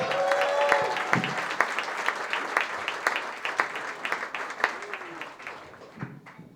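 Comedy festival audience applauding and cheering for an incoming comic, a dense wash of clapping with scattered whoops that rises strongly and then gradually thins toward the end.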